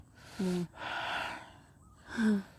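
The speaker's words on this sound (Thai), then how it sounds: "หายใจได้เต็มปอดอีหลีนะครับผม" Someone draws deep breaths of fresh countryside air, with two audible inhales that carry a voiced, gasping edge and a long, steady exhale between them, close to the microphone.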